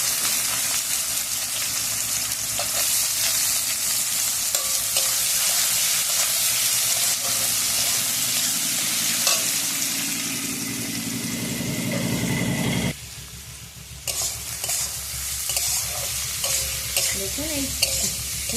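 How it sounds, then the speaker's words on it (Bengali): Sliced onions hiss loudly in hot oil alongside dried chillies and cardamom in a pan for chicken curry, a dense, bright sizzle with stirring scrapes that briefly drops away and then resumes more quietly. "আমি তেলের মধ্যে দিয়ে দিচ্ছি পেঁয়াজ।"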